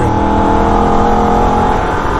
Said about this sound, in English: upshift to third, keep it flat all the way up to the carousel